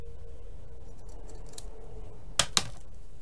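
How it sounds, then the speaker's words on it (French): Scissors snip through paper while a Christmas table centrepiece is being made, with two sharp close cuts in quick succession over a quiet room background. "Donc là, pareil, hein, je coupe."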